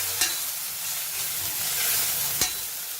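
Veg chowmein noodles with green onions being stirred and fried over high flame, a steady loud sizzle with two sharp clanks of a spatula against the wok.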